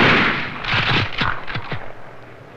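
Gunfire from a 1963 Vietnam war film: a ragged run of sharp rifle shots, about seven cracks spaced irregularly over a couple of seconds, loud and close with rumbling echo behind them.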